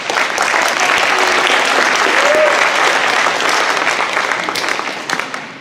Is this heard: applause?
yes